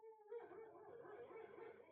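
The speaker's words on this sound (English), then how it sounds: "That's my dog. She's dreaming." A faint, brief high-pitched whimper from a dog dreaming in its sleep, a soft whining tone that wavers for about two seconds in a quiet room.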